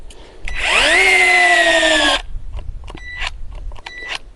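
Einhell TE-AD 18 Li PXC cordless angle drill driving a structural screw into pine, a loud motor whine rising in pitch and holding for about a second and a half before cutting off, followed by faint clicks and handling.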